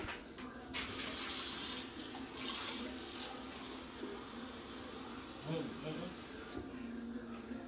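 Water runs from a kitchen tap as cooking gets underway, a soft steady hiss with brief louder gushes, faint and continuous against a quiet room.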